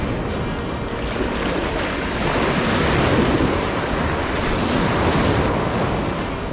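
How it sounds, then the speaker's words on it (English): Surf waves roll and crash steadily onto a beach where people are fly fishing for striped bass, a broad continuous wash with wind noise across the microphone and no talking. "Surf kind of walloping in at us, but I do see the waves."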